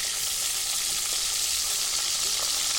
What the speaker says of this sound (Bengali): মাছটাকে আমি উল্টে পাল্টে ভেজে নেব